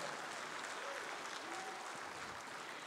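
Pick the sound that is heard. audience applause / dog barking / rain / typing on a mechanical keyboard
audience applause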